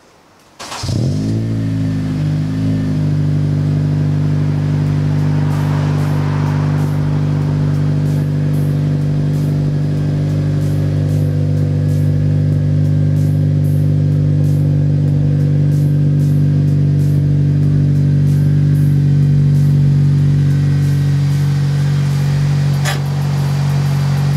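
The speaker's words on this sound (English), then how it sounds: "A little cold start action" A Honda Civic Si cranks briefly and fires on a cold start, then settles into a loud, steady, high idle recorded up close for the rest of the stretch.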